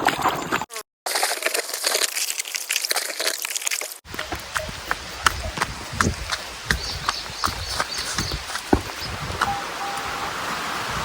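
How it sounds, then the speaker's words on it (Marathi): A village horse's hooves clip-clopping outdoors on hard ground, a run of uneven close knocks and thuds after an opening stretch of broadband rustle and wind noise. "तिकडे पा घोडा आहे आपल्या गावातला घोडा"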